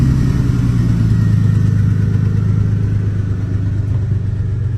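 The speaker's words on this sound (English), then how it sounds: "the truck does have a misfire, so it may start up a little ronky, just it's gonna idle really rough" A truck engine with a misfire idling roughly, a steady low rumble with an uneven, lumpy pulse, close and loud throughout.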